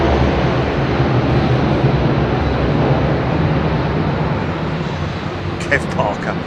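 A heavy airliner departs runway 27R at London Heathrow, its engines giving a loud, steady broadband roar that holds the whole time and eases slightly near the end.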